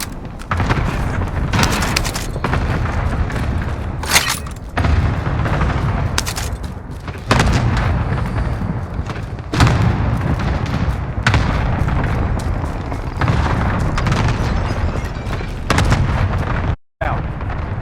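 Artillery strike explosions in the video game Call of Duty Warzone, a rapid series of heavy booms and blasts landing every second or so across the whole stretch over a dense rumbling background, with no speech heard.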